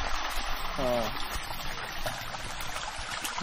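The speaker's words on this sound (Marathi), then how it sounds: "हे विहिरीचं पाणी येतंय ना." Well water running through a pipe into a maize field, a steady outdoor trickle and splash that stays fairly even throughout, with a short voice and background noise layered over it.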